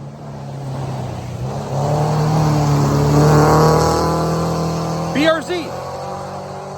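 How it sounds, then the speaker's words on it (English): A Subaru BRZ drives on a race track, its engine a steady, close drone that swells louder in the middle before easing off, with a person's voice breaking in briefly near the end. "BRZ. Pretty cool car."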